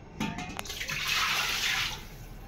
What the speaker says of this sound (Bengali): দেখুন কতটা পরিষ্কার করে ধুয়ে নিয়ে এসেছি চিকেনটাকে